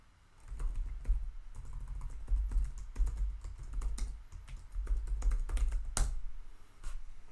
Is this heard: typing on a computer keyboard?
yes